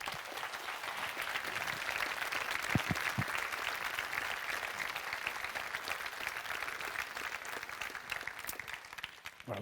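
Long, steady audience applause at a 25th anniversary celebration, a thick even roar of many clapping hands with a few sharper claps, ending abruptly.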